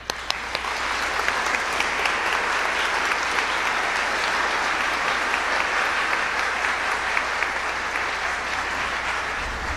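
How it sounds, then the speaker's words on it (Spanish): A large audience at a spiritual gathering applauds steadily and evenly for a speaker called the great master. The clapping holds a dense, unbroken wash for nearly ten seconds with no voices over it. "aplausos para la gran maestra"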